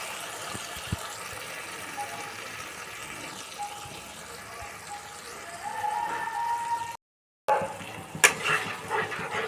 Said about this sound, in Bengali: আঁচ কমানো আছে, মশলাটা ভেজে নিচ্ছি